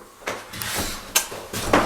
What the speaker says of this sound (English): The door works, it's slammable, we like it.